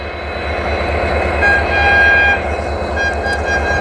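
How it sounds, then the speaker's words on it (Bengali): An express train rolls past on a railway line, loud and close, its steady rumbling clatter swelling at the midpoint, with faint horn tones riding over the wheel noise. "ওই দেখতে পাচ্ছ আরেকটা ট্রেন কিন্তু আসতেছে ওই জায়গায়"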